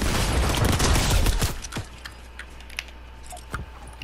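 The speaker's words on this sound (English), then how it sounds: "There's another guy shooting at me." A dense burst of rapid gunfire in the Fortnite video game opens loudly, then scattered single shots and clicks follow more faintly over a low background hum.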